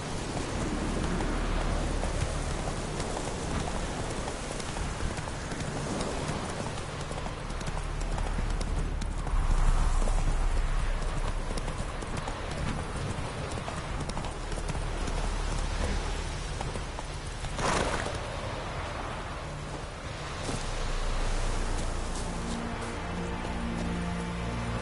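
Roach, a horse in The Witcher 3, gallops steadily with rhythmic clip-clop hoofbeats, continuous and close, over a soft patter of rain, with a brief louder burst near the end.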